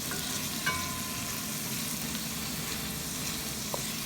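Rice and other ingredients stirred and mixed in a hot, sizzling pan: a steady loud frying hiss runs throughout, with occasional scrapes and clinks of the utensil against the pan and no talking.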